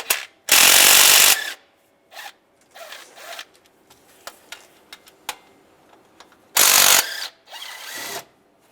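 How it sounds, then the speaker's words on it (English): Ratchet and 15mm socket remove the belt tensioner bolts on a 2007-2013 Chevy Silverado, with two bursts of rapid ratcheting clicks up close, separated by quieter scattered ticks and metal handling. "We're going to remove the belt tensioner. Use a 15mm socket."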